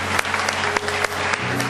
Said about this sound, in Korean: 주님 앞에 영광의 박수 올려드리겠습니다